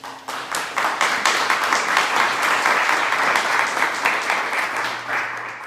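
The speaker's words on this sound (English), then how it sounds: "Let's give them a round of applause." An audience at a community arts month kickoff meeting in Santa Cruz County, Arizona, breaks into steady, dense applause that swells quickly and holds for several seconds before tapering off.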